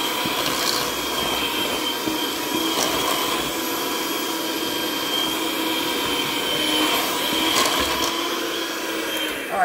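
An electric mixer beats chocolate pound cake batter made with Hershey's and whole milk. It produces a loud, continuous motor whine with a slightly wavering tone and no voices.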